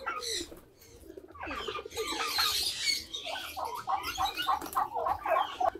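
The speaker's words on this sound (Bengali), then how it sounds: "এই ধাপড়িতে শুধু নর কবুতরগুলো আছে।" Male pigeons in a loft give soft, repeated cooing and rustling calls, with a burst of wing flutter near the middle and a steady run of coos toward the end, fairly close.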